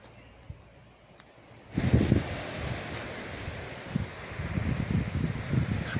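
Sea waves roll in about 100 metres from a camper van site on the Spanish coast. After a quiet start, a broad wash of surf and gusty wind on the microphone rises and keeps rumbling.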